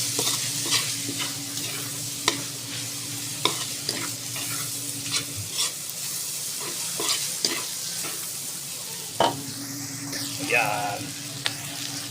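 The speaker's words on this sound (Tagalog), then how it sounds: "Haluin natin." Curry pancit noodles fry in a pan with steady sizzling and repeated scraping, clacking stirring strokes, close and clear, with a brief spoken word.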